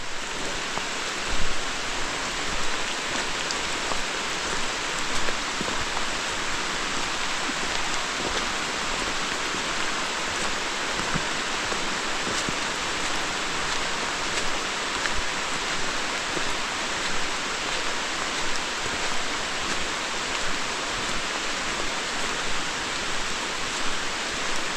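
Torrential rain pours down steadily over a tent campsite on abandoned coal mine land, a dense, unbroken hiss that holds at an even level for the whole stretch, with no voices.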